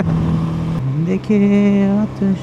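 A Voge 250RR motorcycle engine hums steadily up close, its pitch shifting as it changes gear and revs higher, loud and continuous.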